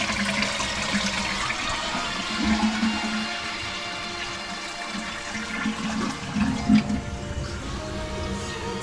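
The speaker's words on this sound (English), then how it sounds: "Good flush." A toilet flushing after its flange and seals were repaired, a strong, steady rush of water swirling and draining for several seconds, close and loud, with no talking over it.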